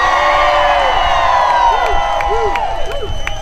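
A crowd in Detroit at a Walk to Freedom 50th anniversary event, cheering, whooping and screaming loudly, with one voice rising above the roar.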